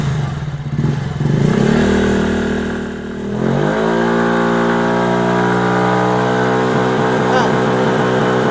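A Yamaha Fazzio scooter engine revs steadily up toward its stock factory limiter and holds there, a loud, close drone that rises in pitch and stays high, with a brief dip and some background talk.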